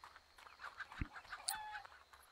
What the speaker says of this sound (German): Hier gackert was.